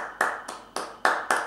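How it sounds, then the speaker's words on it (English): A single person claps hands five times in a slow, uneven rhythm, each clap sharp and close in an otherwise quiet room. "I'd like to applaud you"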